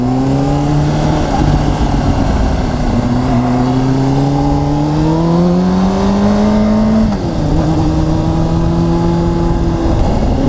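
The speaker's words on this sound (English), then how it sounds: "So I'm putting my hand on the brake, my foot on the brake, downshifting, and there we go." A Honda CBR600RR motorcycle engine revs and downshifts, its pitch climbing and then stepping sharply at each blipped gear change, loud and close with no talking.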